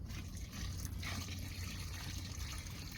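Water pours steadily into a bucket for mixing breeze block concrete, a continuous splashing gush heard up close and fairly quiet.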